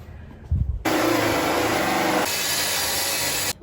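A power saw cuts through wood inside a school bus conversion during bathroom skylight work, a loud continuous rasping cut lasting about three seconds after a brief knock, close and with no talk.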